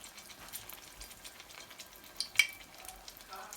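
An egg-battered poblano pepper stuffed with beans fries in a skillet, giving a faint, steady crackle with one brief sharper pop partway through.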